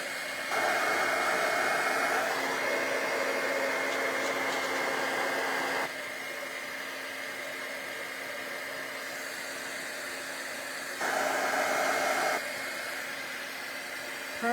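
Heat embossing tool blowing hot air in a steady, loud whooshing drone across the whole clip, with brief surges in strength as it is adjusted while working on a paper card craft project.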